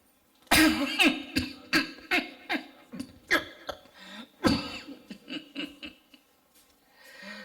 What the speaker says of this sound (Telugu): దగ్గు నా ప్రాణం తీసేస్తుంది